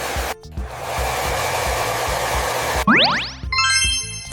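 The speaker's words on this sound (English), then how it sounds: "A hair dryer blows warm air on wet hair." A hair dryer blows steadily with a broad, even whoosh for nearly three seconds before it cuts off and bright synthetic chimes and a boing-like tone take over.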